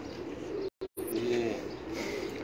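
Champion pigeons coo softly on a rooftop, a low repeated murmur with a brief break partway through, alongside faint voices and background noise.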